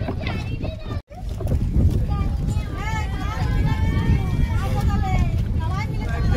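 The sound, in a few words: family boat ride on Tampara lake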